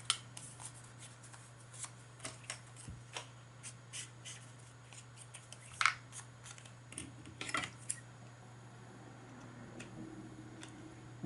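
Scissors snip through card for a rustic country Christmas Santa tag, giving a series of short, crisp close cuts and rustles over a low steady electrical hum, with no talking.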